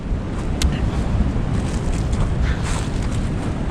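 Strong wind buffeting a microphone at a campsite in a state park: a continuous low roaring rumble with gusty swells and flutter, loud and close, with speech-like sound mixed in.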